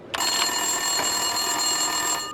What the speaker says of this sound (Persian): تلفن وینترسونی که زنگ میزنه، اما اون اینجا نیست.